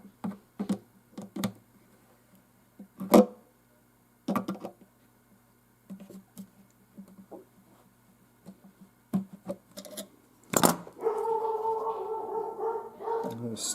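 Dogs bark in short scattered bursts around a quiet indoor room, near and intermittent, mixed with small tapping and knocking noises, then a sustained whining or voice-like tone near the end.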